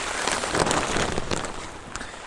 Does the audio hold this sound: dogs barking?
no